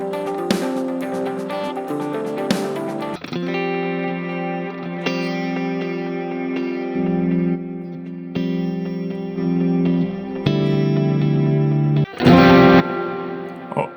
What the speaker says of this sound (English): Just like some big guitars, maybe like here